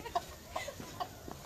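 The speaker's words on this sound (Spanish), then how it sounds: "Aquí viene la gallina." A hen being chased and caught clucks in a few sharp, evenly spaced bursts, close and fairly quiet, with no talking over it.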